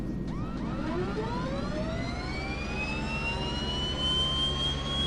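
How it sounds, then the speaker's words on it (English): A Twin Otter turboprop engine spools up during start in a flight simulator cockpit, a loud steady roar with a rising whine that climbs in pitch over several seconds, alone without talk. "Starting engine number 1."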